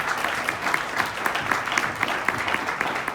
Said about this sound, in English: You guys, giving them another round of applause.